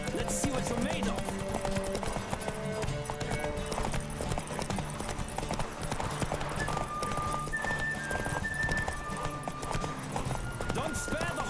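Horse galloping in The Witcher 3, steady rhythmic hoofbeats running throughout under a music score, with characters talking over the ride.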